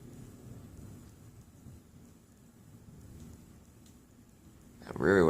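Thunder during a severe thunderstorm at Rehoboth Beach rolls as a low, steady rumble with rain, and a person starts speaking loudly at the very end.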